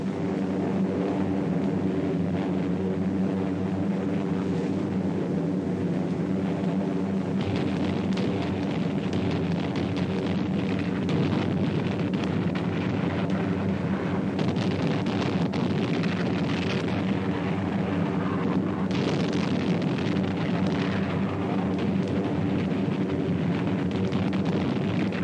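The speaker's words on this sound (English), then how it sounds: "bombs were falling on the newly spotted positions" Bombs exploding on enemy positions on Bougainville in the Pacific war, a steady, heavy rumble of blasts that stays loud for the whole stretch, with a few sharper bursts in the middle and no voices.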